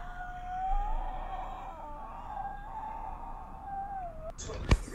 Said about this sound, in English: cats freak me out, bro.